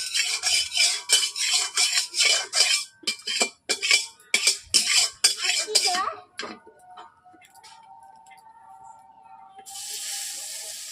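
A metal spatula scrapes and clatters against a hot wok as oil is spread and heated, with rapid irregular scraping for about six seconds, then a quieter steady hiss.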